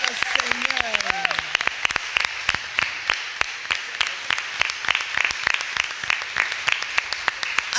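A church congregation clapping in a steady rhythmic beat, sharp loud claps repeating evenly for several seconds, with a brief vocal cry near the start.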